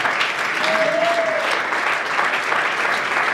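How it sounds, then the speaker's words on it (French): Loud, steady applause from an audience at a Congolese entertainment event fills the clip, a dense wash of clapping with crowd noise, continuous from start to finish. "Est-ce qu'on peut vraiment applaudir pour Roch Bokabela Bodo"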